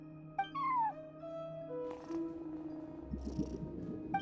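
A cat meows in the video game Genshin Impact: a short rising-falling mew, then a quieter purring murmur over a low game background hum, alone with no talk.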